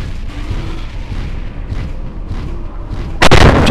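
Buildings blowing up in the MechWarrior 4: Mercenaries video game, a sudden loud broadband blast near the end following a stretch of low rumbling game ambience.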